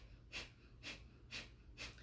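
Breath of fire breathing exercise: four quick, evenly spaced breathy huffs about half a second apart, quiet and close, with no talking.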